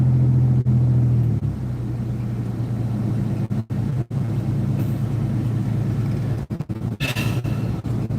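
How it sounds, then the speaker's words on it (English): A car passing by, a low steady rumble of engine and road noise that rises and fades, with several sharp dropouts and handling bumps, no talk. "there goes a car exactly like my daughter's"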